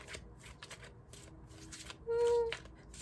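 Tarot cards are shuffled in the hands, giving bursts of quick riffling flutters with short pauses between them, close and fairly quiet, followed by a brief hum near the end.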